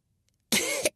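A narrator performs a single short, rough cough for a piglet character in a Norwegian audiobook, loud and close after a moment of silence, with no words around it.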